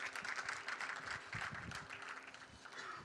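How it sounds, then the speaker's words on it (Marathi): Audience applause at a Marathi lecture session on the 1857 uprising, a dense, steady patter of many hands clapping from a moderate distance, continuing evenly for the whole stretch without a voice over it. "एकदा जोरदार टाळ्या आपण आपल्यासाठी वाजवूया।"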